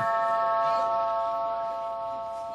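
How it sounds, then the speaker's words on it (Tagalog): An electronic doorbell chime rings out with sustained tones that slowly fade, close and clear with no talking. "Ayan, nag-doorbell na."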